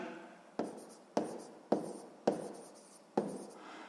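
Pen writing by hand on paper while working a sixth-grade maths area problem; five short, close scratchy strokes, each starting with a sharp onset and fading, spaced at a steady rhythm with no talking.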